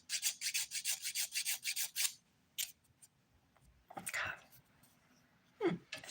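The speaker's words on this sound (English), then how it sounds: "Now I'm just filing underneath the nail to make sure that's smooth" A nail file rasps under the edge of a fingernail in a run of quick, evenly spaced close-up strokes, then a few isolated scrapes with pauses between them. A soft voice talks at times.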